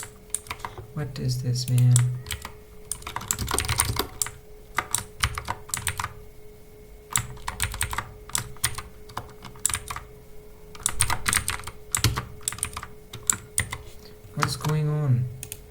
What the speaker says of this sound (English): when I type anything